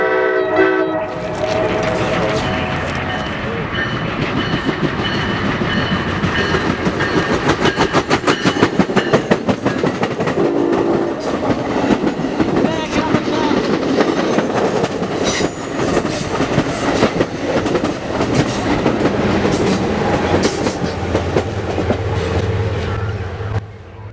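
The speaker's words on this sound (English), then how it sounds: "After this random train clears" A Conrail freight train passes loud and close, its horn sounding early before a long, continuous roar of rolling cars with rhythmic clickety-clack of wheels over rail joints.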